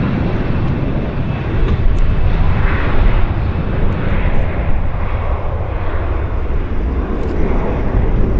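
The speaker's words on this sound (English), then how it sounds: "Takeoff." Airplane taking off at Vancouver airport, a loud, steady broadband engine roar that holds close and strong throughout with no speech.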